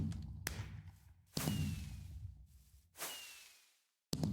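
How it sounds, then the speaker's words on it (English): Fireworks bursting in a Minecraft night sky, several booming explosions spaced a second or two apart, each a sharp thud trailing into a crackling, fizzing decay, with a faint whistle between bursts. "Finally, on the night of day 1002, I got to watch the fireworks rain-free."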